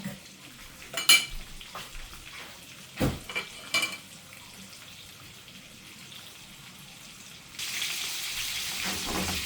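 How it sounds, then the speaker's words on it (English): A quiet background sizzle of kielbasa sausage frying in a pan, punctuated by a few sharp clinks of utensils, then a louder steady hiss toward the end. "we're gonna let that sizzle up, and when it's brown, I'll be back"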